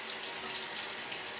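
Warm water runs steadily from a tap into a sink fitted with a mat, a continuous close hiss and splash with no pauses or voices.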